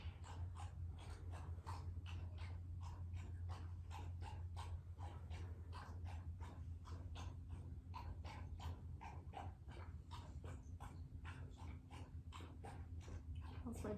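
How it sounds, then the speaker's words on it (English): A dog laps water close by in a quick, steady rhythm of wet strikes, continuing throughout over a constant low hum. "That's my dog drinking water."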